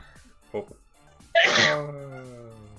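A single loud, close human sneeze bursts out abruptly and trails into a drawn-out vocal moan, preceded by a faint short breath.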